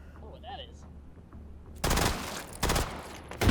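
Mac gun firing in a first-person shooter game, with two loud rapid bursts of automatic fire after a quiet stretch and a third burst starting at the very end.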